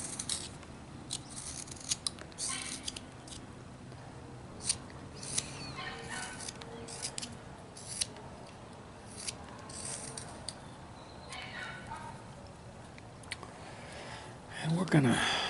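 A knife cuts away saw marks on a wooden caricature snake, giving short close scraping cuts in an irregular rhythm, faint and crisp, with someone talking quietly at times.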